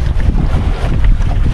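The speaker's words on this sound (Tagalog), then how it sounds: "mahangin-hangin talaga mga idol." Strong wind buffeting a fishing boat out at sea at night, a loud, steady roar with rumbling gusts and water wash, no voices.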